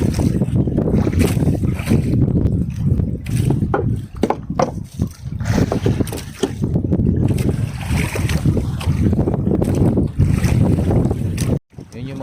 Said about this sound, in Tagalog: ang hangin di pa rin tumitigil